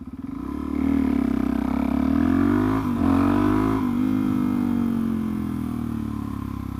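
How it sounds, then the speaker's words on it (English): A Suzuki DR-Z dirt bike engine runs steadily up close, a loud throbbing single-cylinder drone that rises in pitch once or twice with a brief blip, with no talking. "this bike is running so well now"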